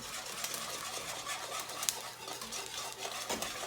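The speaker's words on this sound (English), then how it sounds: "Just going to pull the whisk in here" A whisk stirring a mixture in a pot for pasticcio, a continuous close scraping and swishing with small clinks against the pot sides.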